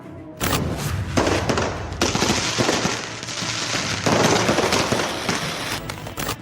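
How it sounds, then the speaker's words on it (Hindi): Rapid crackling bursts and sharp bangs of Diwali fireworks and firecrackers going off continuously, dense and loud, with booms mixed into the popping. "लोगों ने इस दीपावली जमकर पटाखे फोड़े और आतिशबाजी की"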